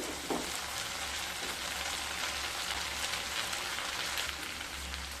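Fried eggs going into a sizzling poppy seed masala in a pan, a dense continuous close crackle and hiss like rain with no voices.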